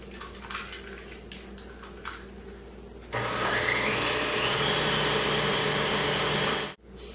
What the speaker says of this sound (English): I'm going to add them to the mixer one at a time, making sure to beat them really well after each addition, still on medium-high speed.